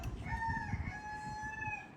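A rooster on a small farm crows a long, sustained call, its tonal cry held steady against low clucking and rustling from nearby poultry, close and fairly loud with no talk.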